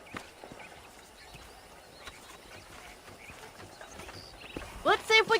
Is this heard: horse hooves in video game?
yes